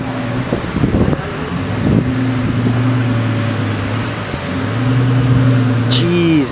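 A Pagani supercar's engine hums with a steady droning tone outdoors in Denver, Colorado, under wind noise, then rises in pitch near the end as it revs and pulls away.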